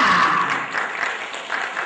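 An audience applauds at an event honouring doctors, a dense, loud burst of clapping that holds steady for a couple of seconds.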